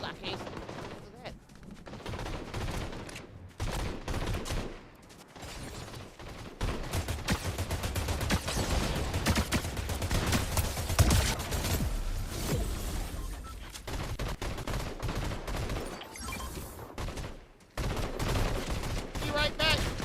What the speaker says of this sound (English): I just saw somebody shoot at me, and I can't shoot back